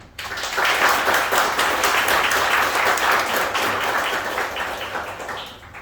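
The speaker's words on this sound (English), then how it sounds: "let's give a warm round of applause for Dan" Audience applause at a coding school demo day, dense steady clapping from many hands that swells quickly and holds evenly for several seconds with no talk over it.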